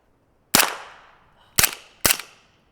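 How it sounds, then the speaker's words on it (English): Three suppressed gunshots fired through an Omega 36M suppressor, sharp loud cracks with short decaying tails, the first standing apart and the last two in quicker succession, heard outdoors with no talking. "First round crack was louder than the subsequent 2 shots."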